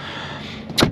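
A single solid thud of a 2022 Ford Expedition Platinum door shutting near the end, after a brief quiet stretch of low hum.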